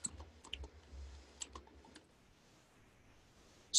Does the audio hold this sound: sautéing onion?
no